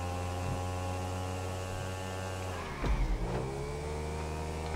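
A car speeding through a GTA Online race in a video game, with a steady engine drone and hum throughout and a brief louder rev or surge around the middle.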